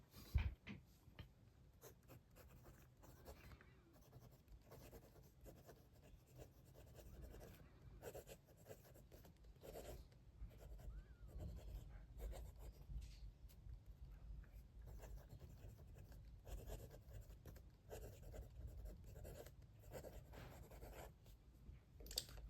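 A Lamy Balloon fountain pen with a fine steel nib and Lamy black ink scratches across paper in quiet, continuous strokes with brief lifts between them, heard up close and faint with no one talking.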